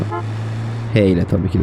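A car horn in GTA San Andreas sounds a long steady honk, followed by a voice speaking in Turkish over the game's background road noise.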